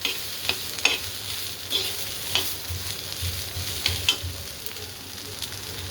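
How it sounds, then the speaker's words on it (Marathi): Paneer roasts in a hot pan, giving a soft continuous sizzle broken by repeated scraping stirs at irregular intervals, close and moderately quiet. "छान असं भाजायला लागलं आपलं पनीर आवाज येतो"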